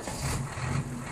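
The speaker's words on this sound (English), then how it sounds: "Crane." A crane's engine runs in a steady, moderately close low rumble with a faint tonal hum, continuous and alone for about a second.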